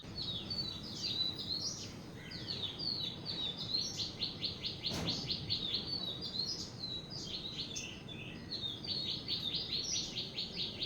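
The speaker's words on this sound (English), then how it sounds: "but also a lot of birds." Birds chirp and tweet in rapid repeated bursts around a small guest house in Alleppey, Kerala, with steady busy calls running throughout, fairly close and clear over a low background murmur.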